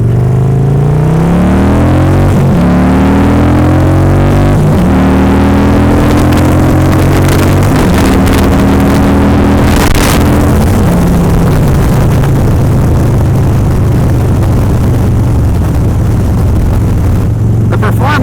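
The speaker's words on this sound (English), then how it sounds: "I'm going to get on the highway now, and let's do a little bit more of a hard pull with that." A Harley-Davidson motorcycle pulls hard on a highway, its loud engine roar climbing steadily through several gear shifts before settling into a sustained high-speed drone with heavy wind rush.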